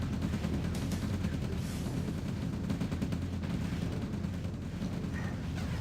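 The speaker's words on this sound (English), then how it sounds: "This artillery here just absolutely minces my infantry." Relentless artillery barrage from a Red Alert real-time strategy match: continuous, dense booming and crackling gunfire with heavy low rumble, loud and unbroken throughout as shells rain on infantry.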